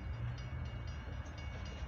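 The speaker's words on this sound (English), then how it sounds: "I can hear the roar of that train" A long CSX coil train on an evening northbound run roars past nearby as a steady low rumble with broadband rail noise, continuous and loud throughout, with no talking.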